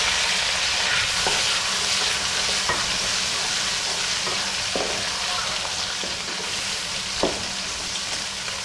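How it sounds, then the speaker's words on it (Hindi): Sliced onions fry in oil with whole spices such as black pepper and cinnamon for a biryani pulao, a loud, dense, continuous sizzle punctuated by occasional light clicks of stirring, with no talking. "ये देखिए, अब हम डालेंगे प्याज। 3 प्याज है।"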